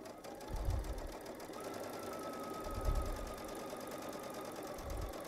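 A Baby Lock Solaris sewing machine pieces quilt fabric with a quarter-inch piecing foot, making a soft, steady motor hum and whir with faint low thumps at intervals, quiet and close.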